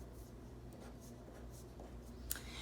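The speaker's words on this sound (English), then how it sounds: "So I'm going to write a 3 right here." A number is written by hand on paper or a board, faint scratchy strokes in a quiet room ending with a small tap, with no one talking.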